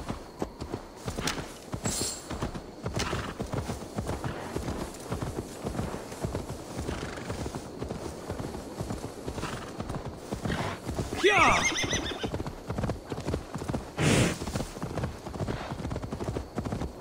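Horse hooves clip-clop steadily in Assassin's Creed Valhalla, a continuous rhythmic plodding that runs the whole time, with a loud neigh near the end and a second whinny shortly after.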